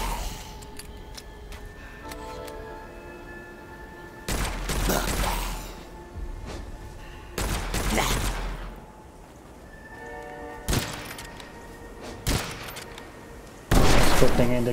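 Gunfire bursts from a weapon in the first-person video game Witchfire, loud broadband blasts in several clusters over steady game ambience and music, with no voices.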